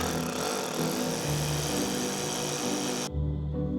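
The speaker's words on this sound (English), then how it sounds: "So I'm just going to drill 2 anchors for that corner and move on to the next one" Power drill boring anchor holes for a safety pool cover, a loud continuous whirring grind that stops abruptly near the end, leaving a quiet low hum.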